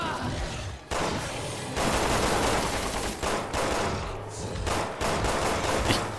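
Rapid gunfire from Resident Evil 6 combat against a tank, loud bursts of shots and explosive blasts in quick succession with brief gaps, little talk.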